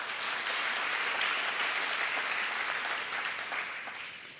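Sustained audience applause at a tennis hall of fame ceremony, steady and fairly loud throughout, fading slightly at the end, with no talking over it.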